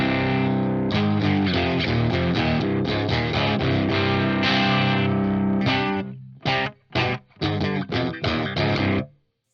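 Jackson electric guitar played dry through an Orange Dark Terror amp, a loud distorted metal riff sustained for several seconds, then broken into short, choppy chugged bursts separated by brief silences.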